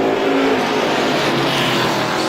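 Stock cars in a heat race at Star Speedway pass with loud, continuous engine roar. The close, unbroken din of several cars battling down the straightaway is heard with no talk.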